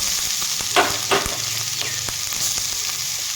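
Grated carrot and whole cumin fry in mustard oil, a loud, steady close-up sizzle with a few scraping stirs and light knocks of a utensil, no talking.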